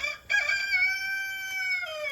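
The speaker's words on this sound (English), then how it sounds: "there's that lovely rooster of mine." A rooster crows once nearby, a long, loud, tonal cock-a-doodle-doo that holds steady before trailing off.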